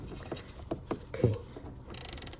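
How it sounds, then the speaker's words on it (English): A ratchet wrench clicks as it turns a screw while removing the barometric pressure sensor on a Volvo XC70 D, with scattered mechanical taps followed by a rapid close run of ratcheting clicks. "I got the ratchet just on the screw"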